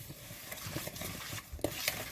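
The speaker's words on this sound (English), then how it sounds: "And then I'm going to stir this. We'll use my buttered spoon." A buttered spoon stirs through a pot of apple dumpling filling, giving a few soft scraping and clinking strokes up close, with no talking.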